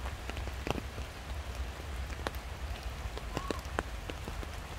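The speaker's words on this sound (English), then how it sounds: "Listen to the sounds of the rain, guys." Steady rainfall in a forest where blackberries are being picked, a constant patter on foliage with scattered close drops tapping distinctly.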